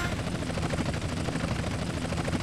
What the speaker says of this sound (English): We got a chopper on our tail. We'll never shake it now.